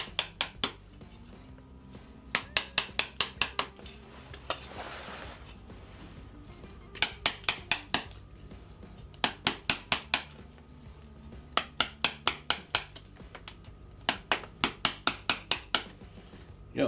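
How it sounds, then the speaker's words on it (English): Chisel and hammer cut an ice groove down the back of a wooden duck decoy: bursts of sharp rhythmic taps, five to ten in quick succession, separated by short pauses, close and fairly loud. "So I'll chisel that out."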